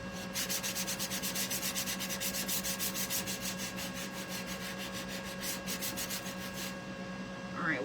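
Sandpaper rubbing on wood with wax clogging the paper, a fast, steady back-and-forth scratching in even strokes, close and fairly loud, ending abruptly.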